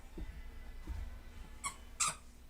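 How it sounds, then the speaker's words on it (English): Dogs tussling over a squeaky toy make two short, bright squeaks late in the moment, standing out over a quiet room with faint low thumps. "My dogs are fighting over a squeaky"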